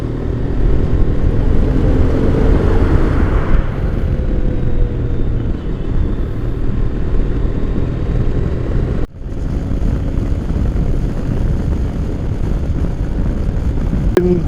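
An XPulse 210 motorcycle carrying a heavy 170 kg payload, its engine and wind roar loud and steady throughout as it rides along, with a brief dip midway and no talk.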